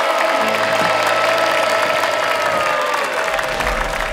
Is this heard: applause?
yes